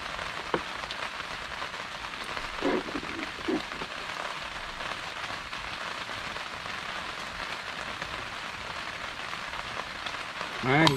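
Steady outdoor rain patters and hisses throughout, with a few faint knocks along the way and a short louder rising sound near the end.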